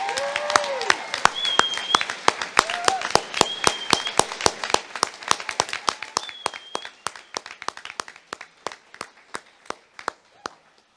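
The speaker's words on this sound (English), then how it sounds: "Can we have another quick celebratory applause for our class of 2021?" Sharp, evenly spaced claps ring out at a school graduation ceremony for the class of 2021, a crisp rhythmic pattern that thins and slows toward the end, with faint whistles or voices briefly above it.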